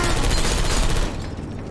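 Dense, rapid gunfire from Portal 2, a sustained rattling volley of shots that tapers off slightly near the end.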